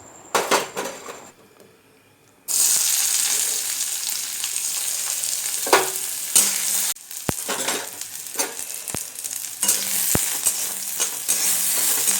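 Cooked red lentils with onion hit a hot pan in a home kitchen and burst into loud, steady frying sizzle, with a few sharp clinks and scrapes of a spoon against the pan.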